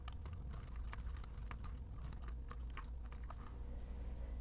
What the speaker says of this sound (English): Click into the chat box, and we're going to type a prompt,